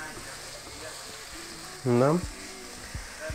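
Mussels fry in olive oil in a pan with a faint, continuous sizzle, briefly covered by a short spoken word midway.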